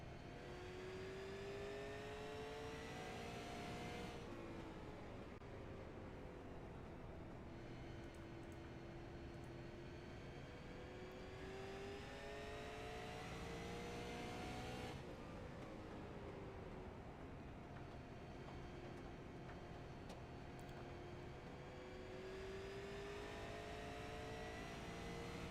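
Super late model race car engine during a one-car heat race, a distant steady drone that rises and falls in pitch as the lone car circles the track, with no voices over it.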